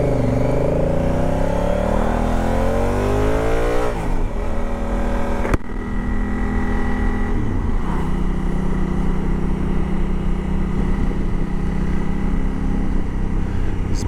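A motorcycle engine revs loud and close, its pitch sweeping up and down through several throttle blips before settling into a steady, rumbling drone.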